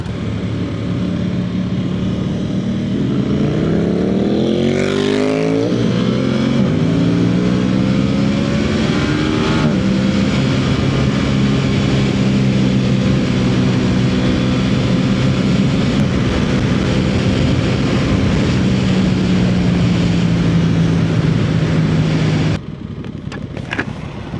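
A 2025 Scrambler 1100 motorcycle on a test ride, its engine loud and steady as it revs up through gears, pitch climbing and settling into a sustained drone before cutting off near the end.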